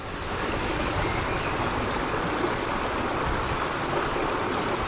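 Water rushing from the outflow of a water wheel at a mill hydro power site pours steadily down into a river, a dense, continuous broadband roar that stays even and close throughout.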